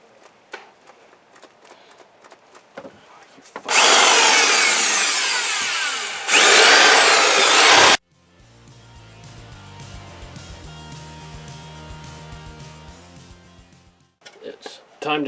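A power tool cuts plumbing pipe for a bathroom install in a loud, harsh burst of about four seconds, pauses briefly and cuts again. A lower mechanical hum follows, with scattered clatter before and after.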